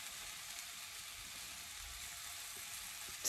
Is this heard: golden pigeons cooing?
no